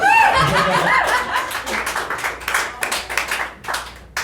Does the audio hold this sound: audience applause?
yes